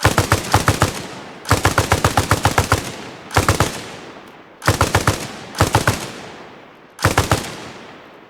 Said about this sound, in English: That's enough shooting.